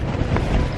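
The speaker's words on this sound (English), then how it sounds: "I'm literally in the middle of a storm here." Strong storm wind buffets a tent at night on a solo wild camp in the Peak District, a brief, dense roar of gusts rumbling close against the microphone.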